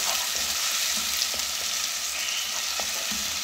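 Chopped medium onion frying in about two tablespoons of hot oil for an egg omelette, a steady, close hiss with a few faint stirring clicks throughout and no talking.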